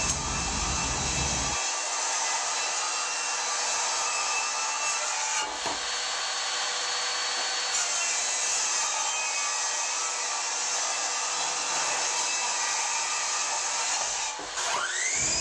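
A table saw rips wood boards lengthwise with the fence set at 1.5 inches, a loud, steady, continuous blade whine running alone for the full length, with a brief dip near the end.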